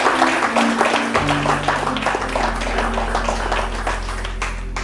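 A church congregation bursts into sustained applause acclaiming the Lord, steady dense clapping throughout with a low hum underneath.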